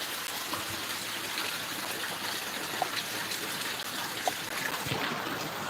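Rain falls steadily outside, with water running and trickling in a dense even wash and a few faint knocks and drips, fairly loud and without talk.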